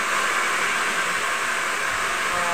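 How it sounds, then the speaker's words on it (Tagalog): A hair blow dryer runs at a salon, drying hair with a steady, loud airy whoosh that holds unchanged throughout with no voices. "Blower pa lang yan."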